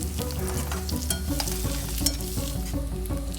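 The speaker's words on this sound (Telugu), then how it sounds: "ఉల్లిపాయలు ఫ్రై అయిన తర్వాత ఒక రెండు మూడు చీలికల కరివేపాకులు కూడా వేసి కలుపుతాం పసుపు వేసి కలుపుకుందాం" Onions, curry leaves and turmeric fry in hot oil while being stirred, giving a steady close sizzle with repeated scraping strokes of the spoon throughout.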